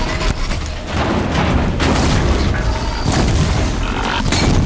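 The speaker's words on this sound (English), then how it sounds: "He's gonna explode in a glorious explosion." A blaze canister bursting on a machine in Horizon Zero Dawn, loud booming blasts layered with crashing debris and mechanical rattling, with no talk over it.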